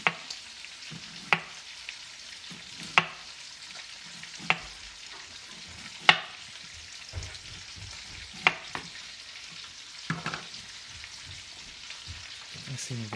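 Potatoes and onion fry in a pan with a soft, steady sizzle, broken every second or two by sharp clacks of a utensil stirring against the pan.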